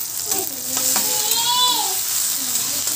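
Vegetables seasoned with a little salt and turmeric fry in oil in a pan, giving a close, continuous sizzle while a faint voice rises briefly in the background.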